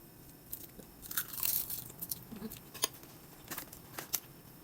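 Baked spinach with cheese being eaten, faint crunchy bites and chewing with a few short crisp clicks, close and quiet, with no talking.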